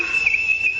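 A single sustained whistle blown as a household signal to summon people on a large estate, a steady piercing tone held for just under a second with no talk.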